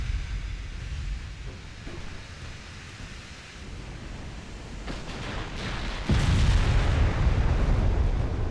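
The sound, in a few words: tank gun firing in a video game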